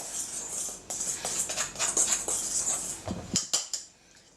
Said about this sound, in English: So we mix it all around, incorporate it well so they all mix together.